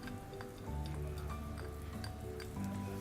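Minced garlic frying in margarine in a pan, a soft steady sizzle with small crackles and pops, close and continuous, alongside faint background tones.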